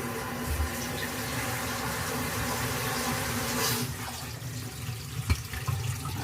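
Water runs steadily from a tap into a newly installed bathroom vanity and drains away, a continuous close rush with a few small knocks and clunks near the end.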